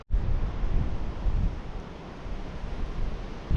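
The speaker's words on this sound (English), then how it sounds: "The wind is proving to be a challenge." Strong wind on an exposed hilltop buffets the microphone. It makes a loud, continuous roaring rumble that surges and eases throughout, with no voices.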